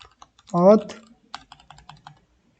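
Computer keyboard typing while writing a Flutter login controller class in code, a run of light, close clicks after a brief voiced sound, faint and irregular.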